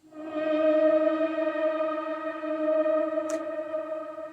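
A Strymon NightSky time-warped reverb pedal sustains a sustained tone with stacked harmonics that swells in, lingers as a smooth, diffuse wash and carries a brief bright click near the end.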